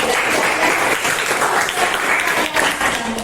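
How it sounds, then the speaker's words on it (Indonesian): A group of teachers at a school gathering gives a sustained round of clapping, dense and lively, lasting the whole moment at steady loudness. "Berikan aplaus"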